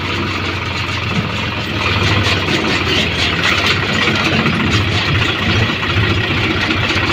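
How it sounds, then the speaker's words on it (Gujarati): A tractor engine runs steadily at a close, even idle-like drone with a low rumbling hum, heard alone on the way to a mustard threshing job. "ગલાબાનું ટ્રેક્ટર લઈને આપણે જઈ રહ્યા છીએ."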